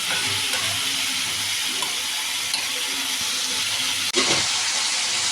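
Tomato and egg frying in oil with potato, cauliflower and peas, a dense, continuous watery sizzle with a brief sharp clank near the end, no speech.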